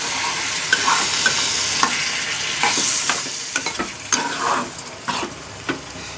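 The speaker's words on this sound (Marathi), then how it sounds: "हलकासा आपल्याला टाकायचं याच्यात पाणी." Cashew fruit curry with prawns, cooked over a wood-fired clay stove, sizzles steadily in the pan as a little water goes in, with repeated close scraping stirs throughout and no voices.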